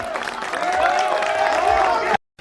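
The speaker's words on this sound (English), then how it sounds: "Give them a round of applause." A party crowd at a wrestling event applauds and cheers, loud continuous clapping with voices and a sustained shout layered over it, cut off sharply near the end.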